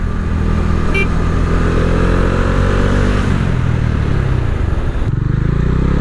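Bajaj Dominar motorcycle ridden on the road, its engine droning loud and steady with shifting pitch as it speeds up, and wind rushing throughout.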